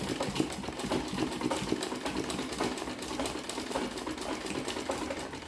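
A home sewing machine doing machine embroidery stitches steadily and rapidly, a close, even mechanical whirr with fast rhythmic needle ticking that runs without pause throughout, with no talk over it.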